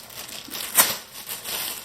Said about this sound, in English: You can do it with a plastic bag.